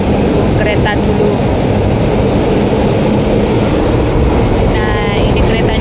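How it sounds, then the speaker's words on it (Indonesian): A train pulls into a station in Hong Kong with a loud, steady rumble and hiss that fills the whole stretch, and voices can be heard talking over it. "Nah, ini keretanya udah datang."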